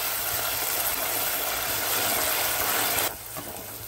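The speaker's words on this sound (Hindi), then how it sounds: "तेल गरम हो चुका है, प्याज डाल दें। हाई फ्लेम पे ही इसे फ्राई कर लें" Chopped onions frying in hot oil over a high flame, a loud, steady close sizzle that holds for about three seconds, then drops to a quieter hiss.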